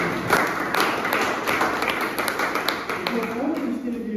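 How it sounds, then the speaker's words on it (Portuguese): A church congregation gives a round of applause, a busy clatter of many hands, while a voice speaks over part of it. "uma salva de aplausos para o nosso"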